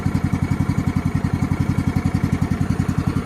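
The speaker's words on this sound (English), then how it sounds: "there's the tractor running" A ride-on mower's engine runs steadily after the choke is pushed in, a loud, close, even idle with a fast regular pulsing throb and no voices.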